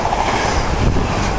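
A Freightliner freight train rolls past Manningtree Station, a loud, close rumble of wagons with brief clattering and metallic wheel noise over a brief moment.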